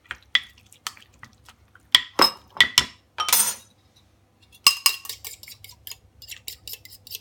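Egg filling for a salmon quiche stirred with a utensil in a small dish: bright clinks and scrapes in short bursts, a pause, then a quicker run of light tapping taps against the dish, close and alone.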